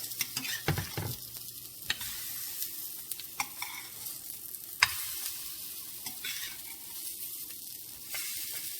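Zucchini fritters frying in a pan after being flipped, a steady hissing sizzle broken by scattered taps and scrapes of a utensil, close and fairly quiet.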